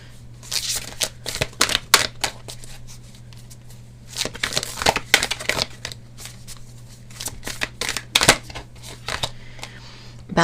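Oracle deck cards are shuffled by hand in repeated quick riffling bursts with short pauses between, close and fairly loud over a steady low hum, with no talking.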